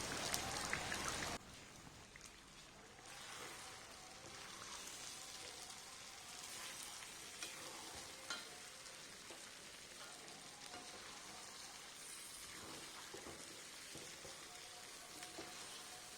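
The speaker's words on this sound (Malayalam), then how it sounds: "മട്ടണും മസാലയും കൂടി നന്നായി ചേർന്ന് വഴന്നു വന്നാൽ" Mutton and masala sautéing together in a pan give off a steady, close sizzle with light stirring crackles. A louder burst at the very start settles into a continuous fry, with no talking.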